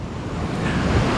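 Steady wind buffets a microphone outdoors on an electric unicycle ride, a continuous low rumbling roar with no voices over the whole stretch.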